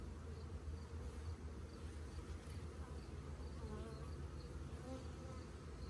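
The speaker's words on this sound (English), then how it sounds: "They're getting a little attacky." Dense, steady buzzing of many agitated honeybees swarming close by during a honey box harvest, continuous and loud throughout with no pauses.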